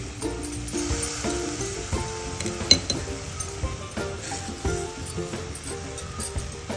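Semolina sheera for a Satyanarayan puja offering being stirred in a pan just after sugar goes in, a soft continuous scraping and sizzling with faint clinks of the spoon against the metal, steady and close.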